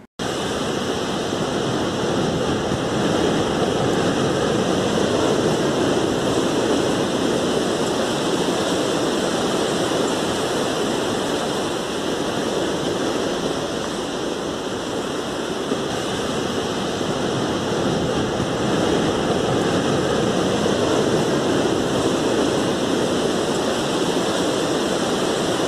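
Ocean waves break on a beach in a continuous, loud, broadband rush of surf that swells and eases slightly but never stops, with no voices.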